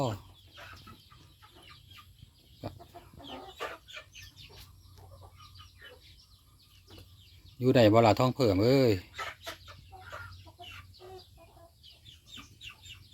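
A hen gives a brief burst of loud clucking midway through, while people talk quietly before and after.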